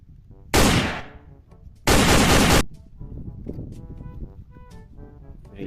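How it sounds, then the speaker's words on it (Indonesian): Toy cowboy pistol firing two loud, harsh cap-gun-style bursts, the second longer and sustained, followed by quieter clicks and rattling handling noise. "Cowboy pistol."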